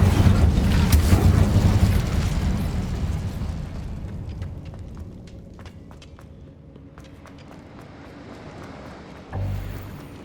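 A roaring, rumbling burst from the Incendio fire spell in Hogwarts Legacy on PS5 opens loud and fades into a softer crackling wash, with a brief low thump near the end.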